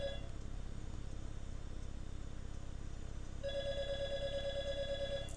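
A telephone rings in Five Nights at Freddy's, a steady buzzing electronic ring that starts partway through over a low droning hum, loud and with no talking.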